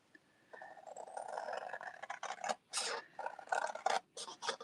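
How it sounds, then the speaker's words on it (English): Scissors cutting paper around the edge of a handmade junk journal folio, quiet rasping snips in short bursts separated by brief pauses, close up with no talking. "On my scissors here, and we're going to cut out around the perimeter of this."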